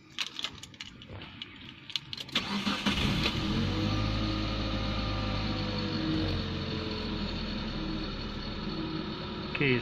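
A Proton Waja MMC car engine cranks briefly and starts, then settles into a steady, fairly high idle hum that runs close and even for several seconds, with faint rustling before the start.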